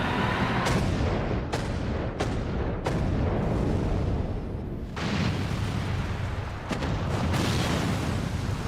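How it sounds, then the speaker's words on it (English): Long-range artillery fire in the Final Fantasy XIV game, a run of heavy booming blasts arriving every second or so over a dense rumbling battlefield din, loud and close with no voices. "Long-range artillery."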